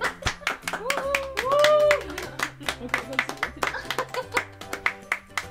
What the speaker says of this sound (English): Come on, claps, claps